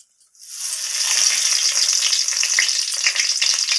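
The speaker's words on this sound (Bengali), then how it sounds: "এরপর আমি ফোড়নে দিয়ে দিলাম একটা শুকনো লঙ্কা ফাটিয়ে, আর দিয়ে দিলাম একটা তেজপাতা।" A dried red chili and a bay leaf hit hot mustard oil, breaking into a loud, steady sizzle that builds within half a second and then crackles evenly and close by, with no voices.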